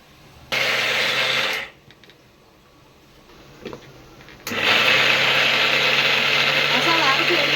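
A mixer grinder whirs through masala for a village chicken curry in two loud bursts, a short one and then a longer steady run, with a quiet pause and a brief clack between them.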